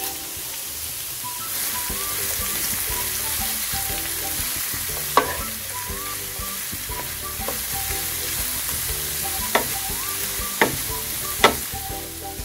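Cabbage and Chinese cabbage are stir-fried together in a pot for a Sunday lunch in Dominica. A steady, dense sizzle runs throughout over quiet background music, with a few sharp clacks of the spoon against the pot.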